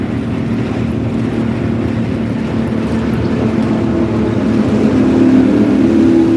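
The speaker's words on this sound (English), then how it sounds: "I love the silver sides, but the dang engine noise." A tour bus engine heard while driving on the road in Missouri, a steady, loud low rumble with wind roar that swells slightly toward the end.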